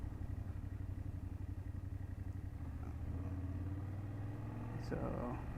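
A 2024 BMW F800GS adventure motorcycle rolls along at slow speed, its engine giving a steady mid-pitched drone that shifts pitch slightly, with a brief clatter near the end.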